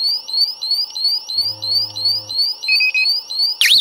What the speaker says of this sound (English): the alarms start going off right away